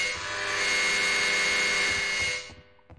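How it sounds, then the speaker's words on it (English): A door in Half-Life: Opposing Force creaks open in one long, loud, grinding screech lasting a couple of seconds before cutting off into quiet. "That's the noisiest door creak I've ever heard."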